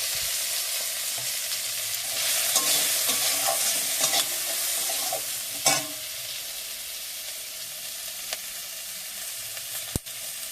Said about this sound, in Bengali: দিয়ে মশলাটা কষিয়ে নেব